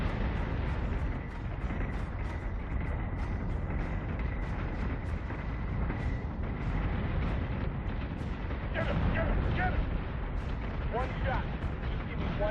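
Warship secondary battery guns firing in the space combat game Battlestar Galactica Deadlock, a dense, continuous barrage of booming shots under a steady rumble, with a few brief electronic tones near the end.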